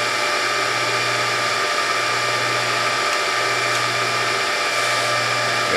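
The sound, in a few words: Norwalk juicer hydraulic press moving up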